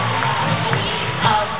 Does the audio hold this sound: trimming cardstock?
no